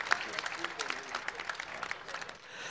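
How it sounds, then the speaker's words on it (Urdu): An audience claps for Shahid Afridi at the 17th Aalmi Urdu Conference in Karachi, with a dense patter of hand claps and a voice briefly audible over the crowd. "بھرپور تالیاں شاہد آفریدی صاحب کے لیے"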